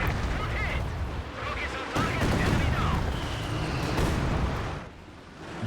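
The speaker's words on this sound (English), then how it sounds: "So there will be the creeping barrage." A creeping artillery barrage in a competitive World War video game, with dense, continuous rumbling explosions and gunfire, loud and layered, close with distant booms behind, and a commentator talking over it.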